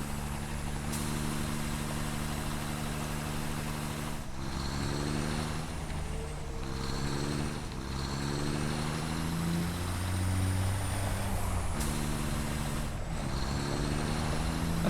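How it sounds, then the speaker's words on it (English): A truck in the video game Satisfactory pulls in over a steady, loud engine drone, with sharp hissing air-brake bursts at intervals and shifting engine tones as it slows and settles. "It's nice seeing the other truck pulling in as well at the same time."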